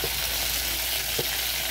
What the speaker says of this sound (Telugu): ఇప్పుడు మిరపకాయలు వేసుకున్నాం కదా తుంపి. కొంచెం వేగనిద్దాం.